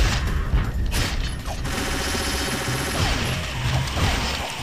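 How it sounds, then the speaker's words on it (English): Shotgun blasts in the video game The Dishwasher: Vampire Smile, loud heavy booms amid dense, continuous combat clatter and music, with no voices. "Yeah, I'm using the shotgun here."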